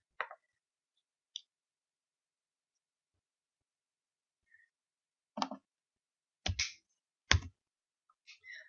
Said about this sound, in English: we're going to click where the fish was, and then type in what letter it was